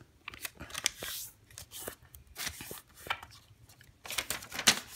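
Paper is folded and creased by hand while making an origami beetle, with close crinkly rustles and crisp crunching presses coming in irregular bursts.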